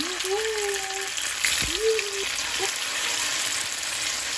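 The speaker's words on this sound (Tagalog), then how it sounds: "Prito tayo ng chicken nuggets." A steady, broadband sizzle of chicken nuggets frying in hot oil runs throughout, with a couple of faint whistling tones and a brief knock partway through.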